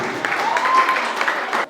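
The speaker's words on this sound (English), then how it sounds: "Let's clap for him." A school audience at an inter-school agripreneur competition in Cameroon breaks into a short, loud burst of clapping that holds steady for under two seconds, then cuts off.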